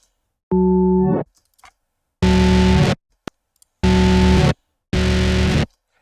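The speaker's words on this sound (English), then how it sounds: "the main idea of this chain was to get that mid saturation gritty sound, that sort of like a guitar" Gritty mid-range saturation in a music production effect chain, like guitar distortion, heard as four loud buzzy tones with abrupt starts and stops, separated by silent gaps and a few tiny clicks.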